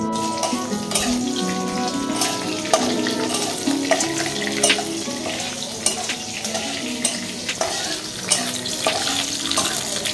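Whole spices, dried and slit green chillies, cinnamon, black cardamom and panch phoron sizzle in hot oil, a loud continuous crackling hiss with sharp pops and occasional stirring clinks throughout.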